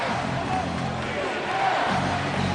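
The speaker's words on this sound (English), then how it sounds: "Crowd into it." Basketball arena crowd during an NBA game between the Los Angeles Lakers and Detroit Pistons, a steady dense roar of cheering and babble that swells briefly, with a commentator's voice talking over it.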